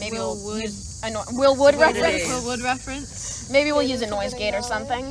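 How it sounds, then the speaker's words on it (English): Cicadas buzz in a steady, faint drone beneath two people talking casually throughout. "if you hear cicadas in the background, those are cicadas."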